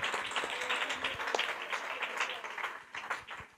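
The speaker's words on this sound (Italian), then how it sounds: "ti facciamo un applauso perché te lo meriti" An audience at a conference applauds together, a steady dense patter of many hands clapping at moderate level for a few seconds, slightly distant.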